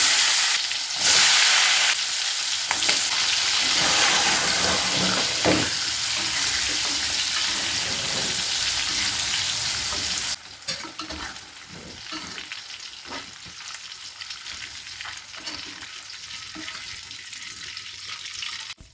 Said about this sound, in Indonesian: sambalnya itu mau aku goreng dulu guys